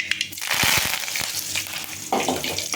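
Curry leaves hitting hot oil already spitting with mustard seeds, a sudden loud crackling hiss that flares, steadies briefly, then bursts again, close by with no voices.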